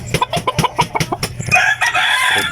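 A hatch gray gamefowl rooster close by: a rapid run of sharp clucks, then a drawn-out crow, loud and alone with no talk.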